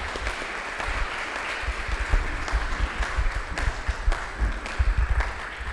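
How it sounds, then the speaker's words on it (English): A lecture-hall audience applauds after a presentation, with steady, dense clapping from many hands that stays even and sustained throughout. "Another round of applause, please."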